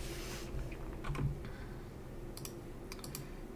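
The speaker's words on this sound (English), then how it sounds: "I haven't typed on this keyboard in a week." Keys on a computer keyboard tap out a few sparse clicks, up close and fairly quiet against a soft, steady room hum.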